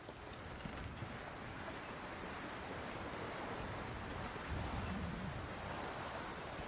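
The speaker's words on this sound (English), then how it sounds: "It seems really windy out here right now." Wind blows hard across open wilderness in The Long Dark video game, a constant broadband roar with gusty swells and low rumbling buffets. It carries on unbroken throughout at a steady, fairly quiet level.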